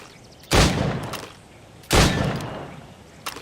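Two loud, sharp gunshots ring out about a second and a half apart in Assassin's Creed Rogue target practice, each with a decaying echo tail, followed by a faint click at the end.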